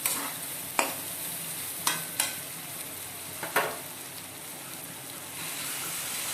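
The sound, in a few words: stirring tarka dal with egg in a hot pan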